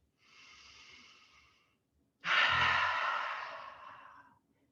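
A deep breath during a breathing exercise: a softer, steady inhale lasting about two seconds, a short pause, then a louder, forceful breathy exhale lasting about two more seconds, close and clear with no talk.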